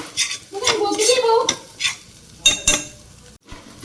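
Grated fresh coconut roasts in ghee in a pan, giving a close, loud sizzle broken by several sharp scrapes and clinks of a spoon stirring against the metal.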